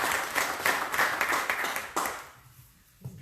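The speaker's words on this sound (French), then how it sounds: "On peut les applaudir" Audience clapping for a couple being thanked at a French gathering, a dense patter of hands that stays steady for about two seconds and then thins out and fades to near quiet.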